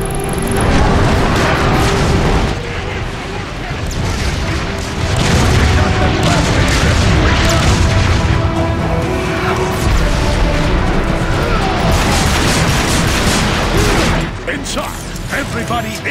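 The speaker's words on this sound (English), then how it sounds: "They're shelling the plaza! It's coming from that warp cannon." Heavy shelling from a warp cannon in the Transformers: Fall of Cybertron video game, loud continuous booming blasts and crashing debris filling the scene, with battle noise and voices underneath.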